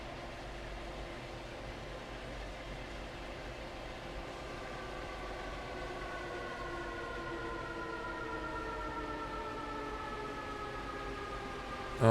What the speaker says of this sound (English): They made the train sound like an air raid siren.